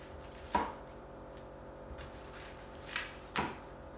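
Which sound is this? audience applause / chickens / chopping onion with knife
chopping onion with knife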